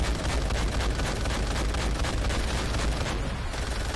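A big cannon in Call of Duty: World at War fires amid dense battle noise, loud overlapping booms and blasts filling the whole stretch before easing slightly near the end.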